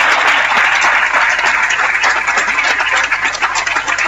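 Steady, full applause from an audience at a talk fills the whole stretch, loud and close without pause, with no voices over it.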